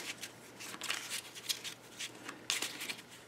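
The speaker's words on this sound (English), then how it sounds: "take all the remaining cards and you shuffle them up" A deck of playing cards for the Dungeonrunner card game is shuffled in quick riffling bursts of crisp, papery flutters, close and fairly quiet, with no voices.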